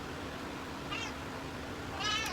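Two short cat meows, the second slightly louder, over a low background hum.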